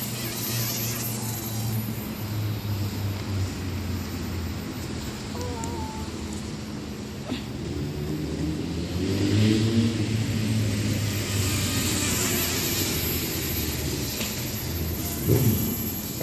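A small Hubsan X4 H107L quadcopter drone flies outdoors. It gives a continuous loud whirring buzz whose pitch rises and falls as the rotors change speed, and no voice is heard.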